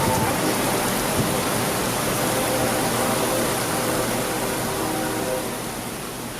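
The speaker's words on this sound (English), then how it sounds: "A strong storm moved through the area tonight, dumping a lot of rain in a short amount of time." Heavy rain pouring down during a strong storm, a dense steady hiss that holds loud and unbroken before easing slightly near the end.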